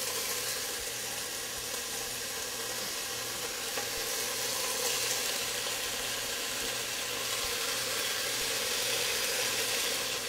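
Bacon cooks until crispy in a big pot, giving a steady, dense sizzle and crackle of frying fat that holds evenly throughout with no talking.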